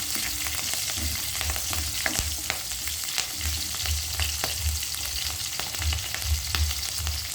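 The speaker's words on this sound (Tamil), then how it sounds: "இடியப்பக்கத்து செய்கிறதுக்கு எடுத்து வச்சுக்கிற மரக்கறியை நாங்கள் வதக்க போகிறோம்" Vegetables frying in a pan with fennel seeds, mustard seeds and green chilli: a continuous sizzle scattered with sharp crackles and pops, close and fairly loud throughout.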